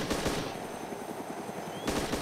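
Rapid automatic gunfire from enemies in the survival game DayZ, loud and close, in bursts of dense repeated shots with a brief lull in the middle.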